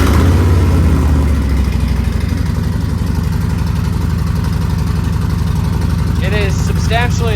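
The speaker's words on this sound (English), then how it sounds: "I guess this is our first startup on the new pipe." A 2024 Harley-Davidson Street Bob fitted with a new TBR 2-into-1 turnout exhaust fires up and settles into a loud, deep, steady idle rumble, with a few faint chirps near the end.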